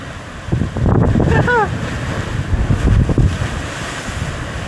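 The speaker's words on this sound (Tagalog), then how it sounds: "Nagwawala ang alon!" Rough ocean surf crashes close by near a sea cave, a broad continuous roar with wind buffeting the microphone, while excited voices whoop and shout over the waves.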